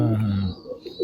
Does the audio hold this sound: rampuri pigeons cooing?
yes